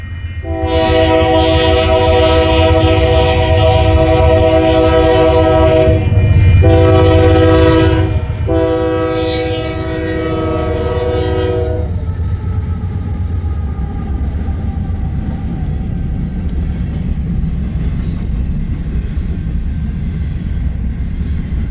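A loud train horn blares in long sustained blasts over the heavy rumble of a passing Union Pacific eastbound freight train with many chemical tank cars, then the rolling clatter continues steadily after the horn stops.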